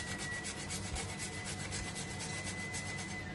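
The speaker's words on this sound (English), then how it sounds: "And now I'm going to put some nutmeg. So just grate a bit." Whole nutmeg is grated for a batch of laddus, a steady, faint, rhythmic rasping scrape repeating quickly and evenly close by, with no talk.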